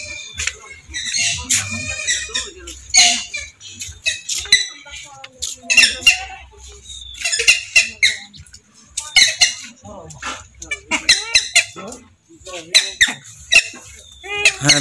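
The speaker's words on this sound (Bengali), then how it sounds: "ভাইয়ের খামারে দেখছি অনেকগুলো কালিম পাখি রয়েছে এখনো" Purple swamphens on a farm give repeated shrill squeaks and squawking calls in irregular bursts, fairly close and loud, with no one talking over them.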